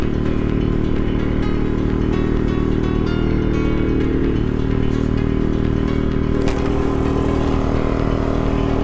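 A Jawa 250 motorcycle runs at half throttle with a fault that stops it pulling at full throttle, giving a loud, continuous, close engine drone that holds steady over the whole ride with only slight shifts in pitch.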